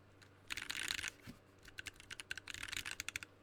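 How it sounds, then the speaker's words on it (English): Typing on a TX60 mechanical keyboard with lubed switches and GMK Sandstorm keycaps: two bursts of close, crisp rapid keystrokes with a short pause between them, no talking. "Let me get some typing examples in front of me."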